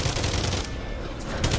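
Rapid automatic gunfire rattles continuously during an escort mission in the Modern Warfare Zombies video game. The bursts are dense and close for the whole short stretch.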